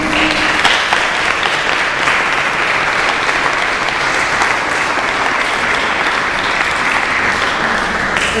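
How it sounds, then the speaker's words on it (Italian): Applause at an art exhibition opening, a sustained round of clapping from the gathered audience, loud and steady throughout without speech. "Grazie, un applauso."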